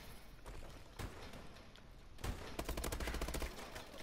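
The BAL rifle in Call of Duty: Advanced Warfare fires in scattered shots at first, then breaks into a dense rapid burst of automatic fire from about the midpoint onward.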